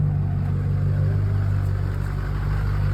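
A steady, low truck engine rumble idles continuously at close range while warming up, a constant drone without revving or pauses.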